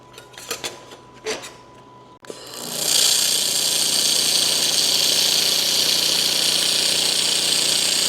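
A handheld laser welder fuses stainless steel plate: after a brief knock and soft rustle, a loud, steady hiss and crackle starts near the three-second mark and carries on without a break to the end, close and alone.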